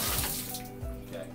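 Water running from a bathtub or shower faucet during a rental bathroom inspection, a steady close hiss of flow with low rumbling thumps and no voices.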